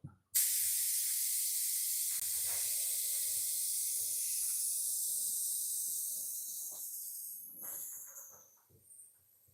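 A spray gun lays primer onto a blocked tailgate in one long, loud, continuous hiss. The spray holds steady for several seconds, then fades and sputters out.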